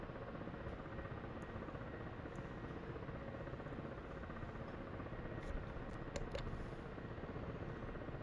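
A roughly 24,000-pound helicopter in a flight simulator, a steady loud rotor and turbine roar that drones on without a break, with only faint clicks on top and no talk.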